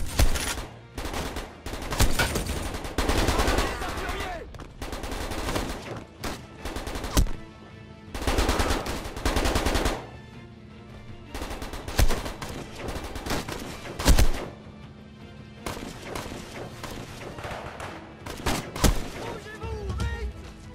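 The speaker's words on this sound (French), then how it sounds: "ça tire de partout" Heavy gunfire from the 7554 video game, with repeated bursts of automatic and single shots erupting from every direction in dense, loud clusters separated by brief lulls.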